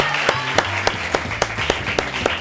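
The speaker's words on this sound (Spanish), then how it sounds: "Denle un aplauso a este hombre, por favor" A television show audience claps in a steady, even rhythm, sharp claps landing about three or four times per second over a tonal musical backing.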